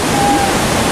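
A powerful waterfall at a hydro site roars as a dense, steady rush of falling water filling the whole moment, with no pause.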